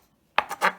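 Knife chopping garlic on a cutting board, three quick close knocks of the blade in rapid succession after a brief quiet moment.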